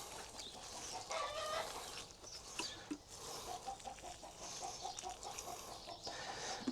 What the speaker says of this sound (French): Là, je pense que vous les entendez, les poules. Vu comme ça cocotte, je pense qu'elles sont en train de pondre.